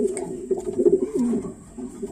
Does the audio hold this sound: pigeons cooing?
yes